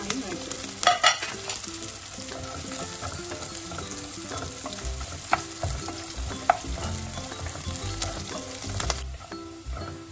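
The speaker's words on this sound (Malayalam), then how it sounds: "നന്നായി വഴറ്റുക." Carrot sautéing in a pan for kaarakka pickle, with a steady sizzle and frying hiss and repeated stirring scrapes and clinks of a spoon against the pan, close and continuous throughout.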